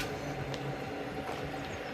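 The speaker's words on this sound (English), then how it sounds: "there goes that tram" A tram pulls away at Highbury Vale with a steady rumble and faint squeals from wheels on rail, continuous and moderately loud, with no talk.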